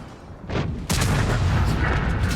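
Grille 15 tank destroyer cannon firing in a tank battle game on the Himmelsdorf map: a short blast followed by a big, loud booming shot with a long rumbling tail, heard alone.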